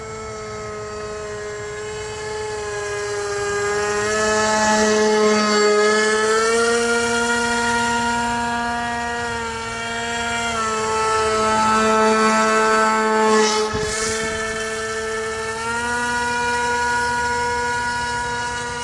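An RCPowers F18 v4 RC model jet flies slowly through high-alpha passes on its maiden flight, its motor holding a steady whine that rises and falls in pitch as it passes, loud and close with no talk.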